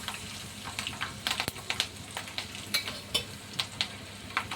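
Peeled garlic dropped into hot oil with cumin and asafoetida, a quiet steady sizzle broken by soft stirring clinks and scrapes, close and low in level.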